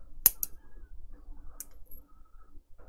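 Wire cutters snip aluminium wire off a bonsai branch in a quiet room, with two sharp clicks close together early on and another crisp snip a moment later, faint handling noise in between.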